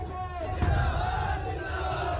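Crowd noise from a packed election rally in Uttar Pradesh, a steady loud roar of many voices with a swell of shouting near the start, continuous throughout.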